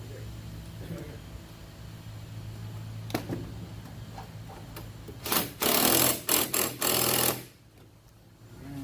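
After faint clicks and low workshop noise, a power tool rattles in several loud, rapid bursts, tightening bolts on the cowl panel of a BMW 3 Series, then quiet returns.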